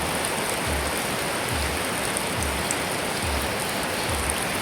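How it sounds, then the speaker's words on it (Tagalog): Heavy rain pours down steadily, a loud unbroken hiss with faint low thumps repeating underneath, and no voices. "lakas ng ulan"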